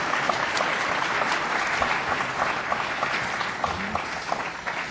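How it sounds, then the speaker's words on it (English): An audience at a food retailing panel session applauds the panel, dense continuous clapping that holds steady and loud for several seconds, with no talk over it. "Let's give a round of applause to our fabulous panel."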